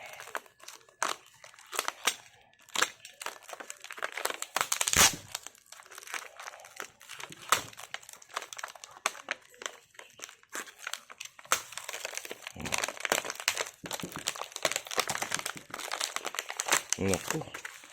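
Packing tape crinkles and rips as it is peeled from the plastic-wrapped packaging of a dartboard, a steady run of close crackling and tearing with brief louder pulls. Voices talk over it throughout.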